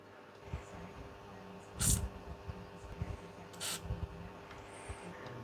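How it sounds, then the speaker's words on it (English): Two short hissing bursts from an aerosol can of PB Blaster penetrating lubricant sprayed into a vintage Brinsmead fan, about two seconds apart, close by against a quiet background. "I'll put a bit of spray lube in that and leave it soak for a while"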